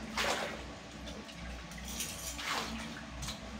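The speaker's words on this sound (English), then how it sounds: "So I'll be adding more water into the production. Add more water and stir properly well." Water is poured into a large batch of liquid soap made with sulfonic acid for commercial production, a steady rushing splash that continues for the whole stretch with no talking.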